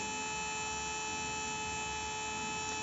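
A 775 DC motor runs with no load on a lead acid battery, giving a steady, even electric hum with a constant pitch throughout.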